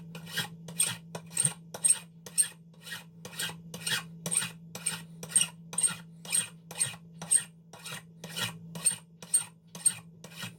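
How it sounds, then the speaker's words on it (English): A hand file rasps across lightsaber threads in about twenty even back-and-forth swipes, each stroke a sharp, close scrape in a steady rhythm over a low background hum. "So, we'll do about 20 swipes of the file and see where we're at."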